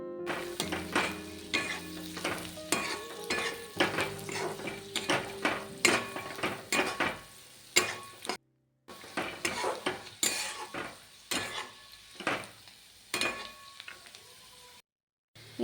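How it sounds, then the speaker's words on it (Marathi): Peanuts and turmeric stir-fried in a pan, a low sizzle broken by repeated clattering spatula scrapes and taps against the metal, close by, with two brief silent gaps and no talking. "यामध्ये आता शेंगदाणे टाकायचे, ते छान असे परतून घ्यायचे."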